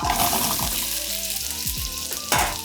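Apple slices fry in spiced butter in a pan with a loud, close sizzle, while clicking, scraping stirs and bubbling pops recur throughout.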